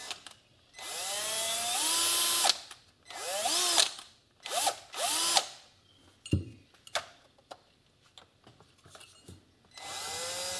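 A power drill whirs up and winds down in several separate bursts, close and loud, with clicks and handling noises between runs.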